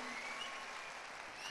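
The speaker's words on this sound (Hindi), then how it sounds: "एक बार ज़ोरदार तालियों के साथ Delhi, help me welcome him on stage" Audience applause welcoming a guest on stage at an anniversary function, a steady, even wash of clapping from a large crowd, moderately loud and continuous.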